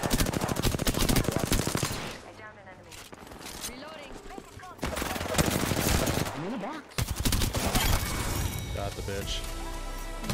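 Weapon fire in the battle royale game Apex Legends: sustained automatic bursts and sharp shots, loud and dense, with short gaps and a voice speaking over the fighting.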